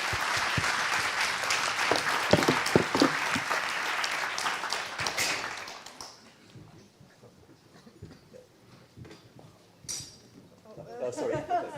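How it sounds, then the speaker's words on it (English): An audience at an AI sustainability forum in the Hôtel de Roquelaure claps loudly for about six seconds, then the applause fades to quiet room noise with a brief voice. "So please give them a round of applause."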